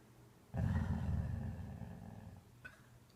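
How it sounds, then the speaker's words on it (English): A sleeping dog named Ventura lets out a low, rumbling growl, steady and close for a few seconds before tapering off, with a small soft noise near the end. "Ventura growls in his sleep"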